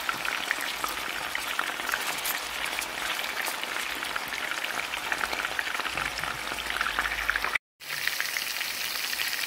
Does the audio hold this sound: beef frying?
yes